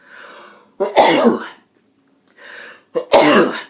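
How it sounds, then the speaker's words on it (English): Two loud sneezes a couple of seconds apart, each preceded by a short sharp inhale, close and clear with no talking. "going to sneeze as my sign off"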